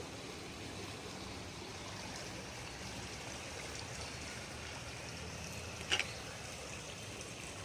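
Floodwater from the Pa Sak River spills over its banks into a village community, giving a steady, distant rushing flow with a soft trickle, heard from a second-floor balcony with one brief sharper noise.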